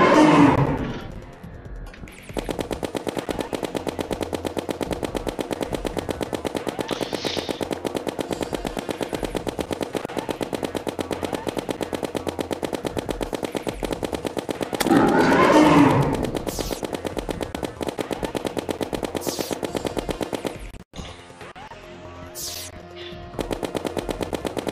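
Rapid automatic gunfire in the video game Terraria, a dense, continuous rattling stream that runs almost without pause, with brief louder bursts and a short break near the end.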